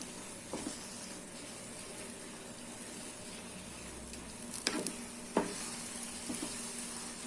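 Ingredients sauté in a pan for plain biryani (kuska), with a soft, fairly quiet sizzle and a few brief stirring clatters.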